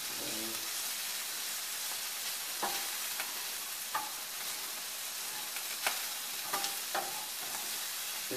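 Small thin bacon lardons frying in a pan, a steady close hiss of sizzling fat with scattered sharp pops and spoon scrapes, no speech.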